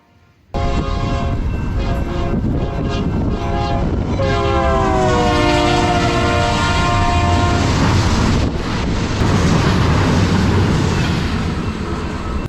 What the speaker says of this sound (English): I got jump scared by an eastbound intermodal, with a Dash 9 leading and a rebuilt Santa Fe Warbonnet second